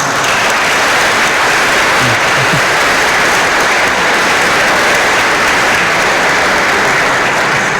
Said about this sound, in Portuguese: Em nome de todos nós, mais uma salva de palmas.